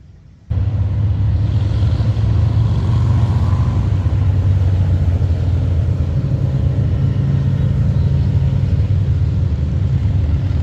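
Motorcycles at the Sturgis rally near Spearfish Canyon, a sudden loud, sustained engine roar that starts abruptly and stays steady for ten seconds with no clear pauses.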